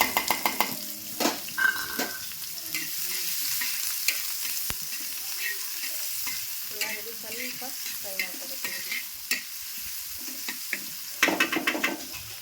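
Small-cut onion frying in oil in a pan, a continuous crackling sizzle punctuated by repeated metallic stirring clatters of a spoon against the vessel, close up with no talking.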